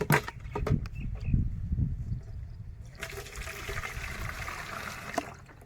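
Water is poured into a bucket to mix pesticide for a kharif crop, starting with a few knocks and a low gurgle before a steady rushing stream that runs for several seconds and then tapers off.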